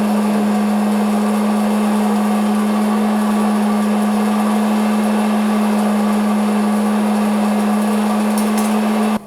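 A hot-air popcorn popper roasting coffee beans runs with a loud, steady whirring fan drone and a constant low hum, unbroken throughout and cutting off abruptly at the very end.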